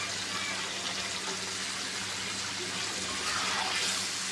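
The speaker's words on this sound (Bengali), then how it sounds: "ঝোল দিয়ে দিলাম" Broth is poured into chicken curry cooking in a pot, producing a continuous gushing, splashing flow that holds steady and close throughout.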